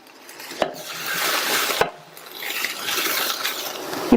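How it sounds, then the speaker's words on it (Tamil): Snake gourd tossed with a coconut mixture in a pan, a steady scraping stir with two sharp knocks of the spoon against the pan and a final clink. "அப்பப்போ இந்த மாதிரி கலந்து விட்டுருங்க"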